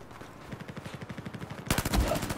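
Gunfire in the Battlefield 4 video game: a rapid, even rattle of shots, then a sudden louder, heavier blast close by that continues to the end.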